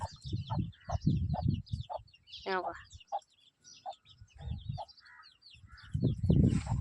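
Village hens protecting their chicks cluck and call in quick, repeated bursts close by, with one rising, rattling squawk partway through and heavier clucking at the end.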